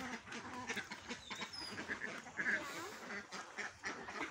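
Farm ducks quack while they eat their feed: a flock of frequent, overlapping quacks and some bill-dabbling noise, close by and fairly faint.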